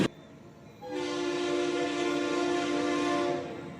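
A long freight train of grain hoppers rolls past, led by NS heritage locomotives with a foreign engine trailing, its loud steady rumble and rail tones swelling after a quieter start and holding strong, with a horn-like tone running through.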